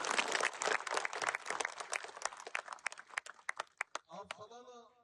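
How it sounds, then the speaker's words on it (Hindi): Audience at a Rajasthan political gathering breaking into applause, dense clapping that thins into scattered, separate claps before a voice begins speaking. "एक बार जोरदार ताली है यार"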